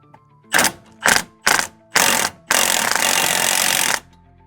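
Sway bar end link on a 2005-2014 Ford Mustang being snugged down, heard as four short loud bursts of tool noise followed by a longer continuous mechanical run, close and without talk.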